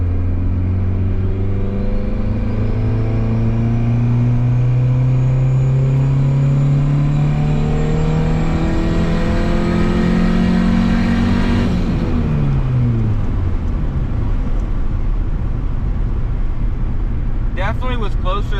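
A turbocharged Honda Civic accelerates hard on a test pull, its engine note climbing steadily through the revs for about twelve seconds, then a sharp drop as the throttle lifts, followed by quieter idle rumble and a brief high chirp near the end.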